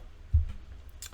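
A single mouse click on a start button: a soft, close tap followed by a faint tick, brief and quiet.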